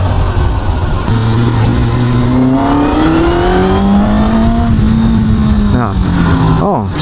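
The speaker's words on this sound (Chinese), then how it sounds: "好的，我们现在把车骑出去爽骑一下啊" A Honda CB500F four-cylinder street motorcycle revs and accelerates as it is ridden, its engine note climbing smoothly through the gears while someone talks over it.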